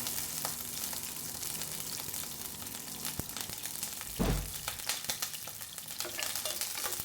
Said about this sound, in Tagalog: haluin lang natin yung ating bawang hanggang sa medyo mag-brown-brown yung ating bawang